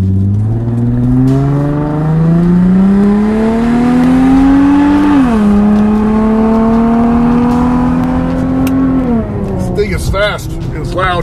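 A 2006 Infiniti FX35 AWD's engine revs up through the gears while driving, a loud steady drone climbing in pitch with shifts partway through, heard from inside the cabin with road noise and a voice over it.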